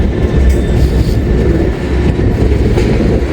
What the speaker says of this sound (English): Amtrak is coming up that line now